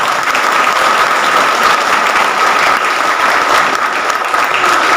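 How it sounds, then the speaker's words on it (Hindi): A crowd at a political chaupal meeting in the Dindoshi assembly constituency claps loudly and continuously, a dense, even wash of applause with no break. "होलसेल में ताली बजाओ तो मजा आता।"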